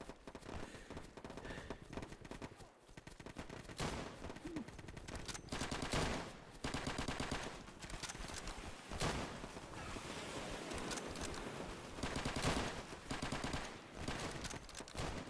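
Dense, continuous gunfire in the Easy Red 2 World War II shooter on a Southern France map, with overlapping bursts and volleys filling the whole stretch at steady loudness, no pauses, and a constant wash of noise underneath.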